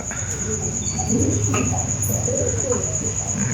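Caged pigeons coo softly and repeatedly up close, with a steady high electrical whine in the background.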